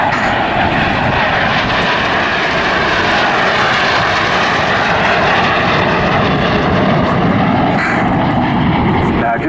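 Aircraft engines roar steadily and loudly as a pair of planes fly in formation during a 2019 airshow at Southport, with a commentator's voice running over the drone throughout.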